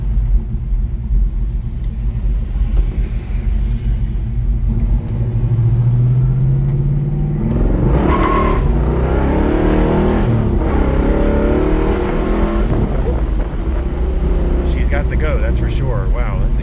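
A 1967 Pontiac GTO with a 389 engine, two four-barrel carburetors and a four-speed, rumbling deeply from inside the car as it accelerates, the engine note rising and shifting through gears, with a voice speaking over it.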